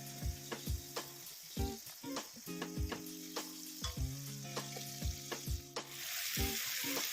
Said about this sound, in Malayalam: നന്നായിട്ടൊന്ന് വഴറ്റി കൊടുക്കാം.